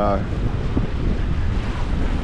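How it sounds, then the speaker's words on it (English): Fierce wind buffets a boat's microphone while crossing Lake Oneida, with a loud, continuous roar and rushing water underneath, steady and unbroken for the whole stretch. "But the winds are quite fierce."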